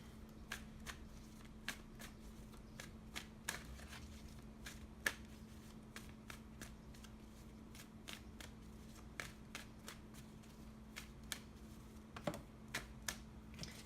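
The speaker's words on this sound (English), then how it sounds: "it's kind of difficult to shuffle sometimes, but you will persevere" A tarot deck is shuffled close by in a quiet room, giving soft, irregular papery riffles and card snaps spaced through the clip over a low steady hum, faint and with no voices.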